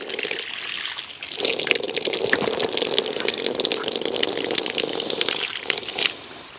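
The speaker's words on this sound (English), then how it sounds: "Here, Charlie, your water's gonna go over here." Water pours steadily from a hose into a pig's drinking spot, a continuous splashing gush close by that starts about a second in and fades near the end.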